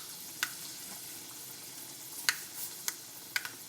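Fenugreek seeds frying in hot coconut oil, a soft continuous sizzle with a few sharp crackles and pops spaced irregularly, close and fairly quiet.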